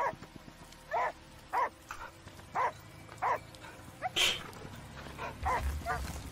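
A dog in the video game Last Day of June barks in a string of short, evenly spaced woofs at moderate distance over quiet game ambience, with a higher yelp partway through.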